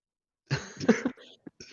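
A single close cough, a short harsh burst followed by a couple of smaller throaty catches, with no talking.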